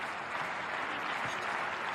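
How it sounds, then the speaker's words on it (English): Football stadium crowd at an FC Tokyo vs Nagoya Grampus cup semi-final, a dense continuous wash of clapping from a large crowd, steady and even over two seconds with no voices. "Slow hang clap from the crowd."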